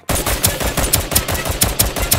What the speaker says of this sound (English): Are you firing?